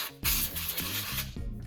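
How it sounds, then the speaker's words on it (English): Canned air sprays hard, loud, hissing bursts to blow dust out of a PS5 console, with short breaks between blasts and a rougher rattle under the spray. "The first thing that I'm going to do is I'm actually going to use my canned air."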